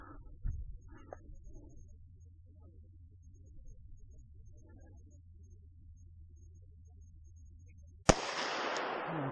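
One sharp, loud report from a Glock 40 MOS 10mm pistol fired at a 50-yard target cracks out near the end, its blast ringing on after a long stretch of quiet outdoor hum and faint rustling.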